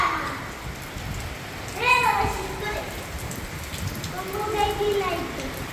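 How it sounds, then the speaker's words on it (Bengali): Steady rain falls in a continuous wash through the whole stretch, with a nearby voice speaking briefly over it in two short bursts. "আজকে অনেক সুন্দর বৃষ্টি হচ্ছে"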